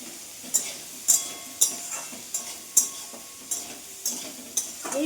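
Steady sizzling of prawns frying in a pan, broken by regular scraping stirs every half second or so, close and fairly loud.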